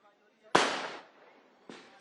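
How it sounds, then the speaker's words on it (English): Firecrackers burst outdoors at a celebration outside a chief minister's residence as supporters gather, one sharp loud crack followed by a fainter second pop a moment later. "Well, fireworks is already underway, Rahul, at CM's residence"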